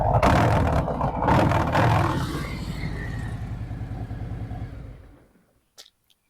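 A 2024 Harley-Davidson Road Glide with aftermarket pipes revs loud and close, a deep throaty roar that swells, then winds down into a low idle rumble and cuts off.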